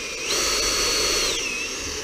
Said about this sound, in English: Drill them.